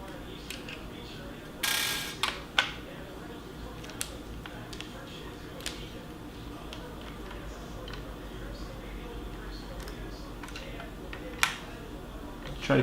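Screws come out of a computer cooler bracket with small metallic clicks and ticks, a few sharper clacks scattered through a quiet, steady background.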